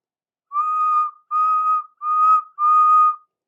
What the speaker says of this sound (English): using Henry's whistle, he gave the special signal that meant that he wanted help up the hill